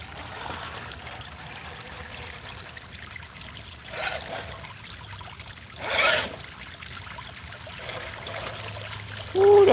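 Creek water trickles and burbles at a V-notch, a low continuous flow with a few louder splashy swells and a short tonal sound at the very end; no voices.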